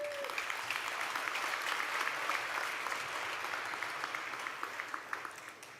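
Sustained audience applause fills a commencement ceremony hall, a dense, steady wash of many hands clapping at moderate distance, holding evenly before tapering slightly toward the end.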